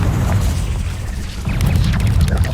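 Confringo spell explosion in the game Hogwarts Legacy, a loud, deep booming blast with heavy low rumble and crackling debris, sustained and close.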